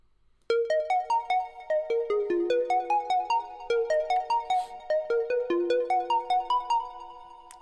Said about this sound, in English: The sound is this one, classic vibrato pluck.